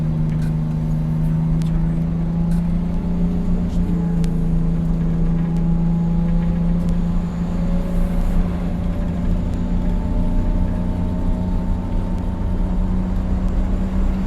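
A 1962 GM 4106 coach under way, its diesel engine droning steadily and loudly with a deep low hum and faint rising gear whine, continuous road rumble filling the cabin throughout.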